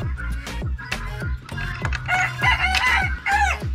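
Chickens and a rooster in a farm coop, clucking repeatedly with crowing calls close and loud, many overlapping bird voices.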